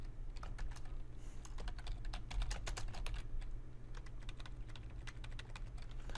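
Fast, close typing of HTML code on a computer keyboard, a dense run of crisp key clicks in uneven bursts over a low background hum, with no talking.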